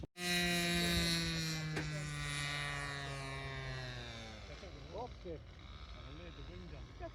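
A model airplane comes in to land with flaps down, its small engine whining loud and close and then falling in pitch as it throttles back, while a voice talks over the end.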